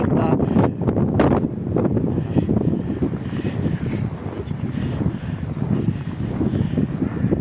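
Strong wind during an outdoor winter walk along a decorated alley, buffeting the microphone in a constant low roar with gusty surges, loud and close throughout.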